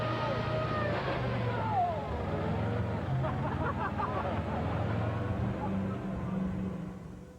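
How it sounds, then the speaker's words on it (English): Big engine of the old Stolly, a vintage vehicle with a red-hot exhaust, rumbling loud and steady as it revs, with deep low harmonics running throughout and some voices and background commotion mixed in. "It's amazing what the sound of a big engine can do for a man, and as Axel revs her up, the old Stolly is"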